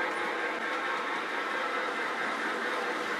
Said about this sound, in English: Let's get Percy out of the train yard and onto the main line.